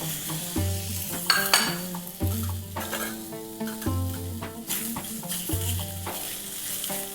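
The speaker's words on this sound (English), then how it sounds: "So we begin by actually saute the meat." Lamb meat sautés in olive oil in a pan with a steady sizzle, overlaid by repeated clinks and scrapes of a utensil stirring against the cookware and a few sharper metallic knocks; no one speaks.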